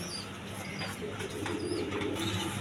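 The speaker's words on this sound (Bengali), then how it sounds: "এখানে এক পেয়ার বেবি কবুতর আছে গিরিবাসের" Baby Giribaz high-flying pigeons cooing softly in a loft, low throaty coos repeating close by amid faint rustling and background chatter.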